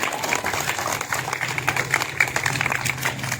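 People clapping for a children's badminton game, a brisk scattered round of hand claps from a small group, steady throughout the clip with a voice speaking over it.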